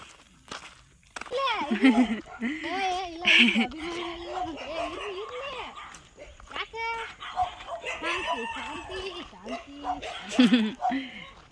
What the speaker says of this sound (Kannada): ಮನೆ ಇವ್ರ ಮನೆ ಒಂದು ನಾಯಿ ಇದೆ, ಅದು ಭಾಳ ಜೋರಿದೆ ಆ್ಯಕ್ಚುಲಿ